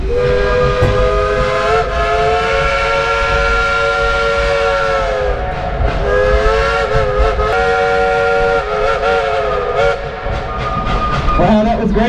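The Dollywood Express steam train engine at Dollywood in Pigeon Forge, Tennessee sounds its steam whistle in long, loud, chord-like blasts with short breaks, over hissing steam and crowd noise.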